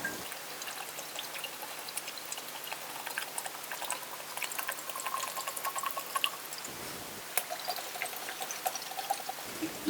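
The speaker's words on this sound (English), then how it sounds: "And I just kind of evenly pour it between the 2 jars." Vodka poured from a bottle into mason jars over apples, a close, continuous splashing trickle with a brief pause midway before the pour resumes.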